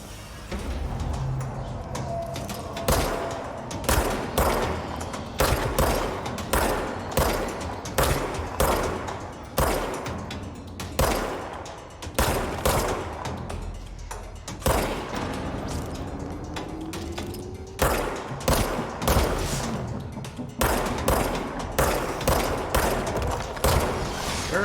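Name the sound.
gunfire in video game Threshold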